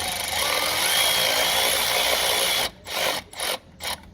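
A socket wrench works a bolt loose on a VG400 engine, a sustained mechanical grinding followed by several short, separate ratcheting strokes, close and without talk.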